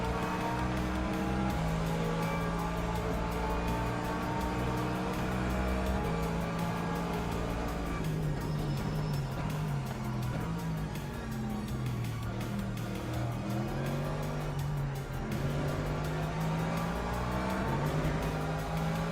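A BMW race car engine drones steadily through a racing video game alongside other cars, the revs rising and falling in continuous sweeps that fill the whole stretch without a break.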